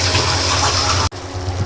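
Water is poured into a pan of fried onions and green chilies while noodles are being cooked, a loud gushing pour that stops abruptly partway, followed by a quieter simmering hiss.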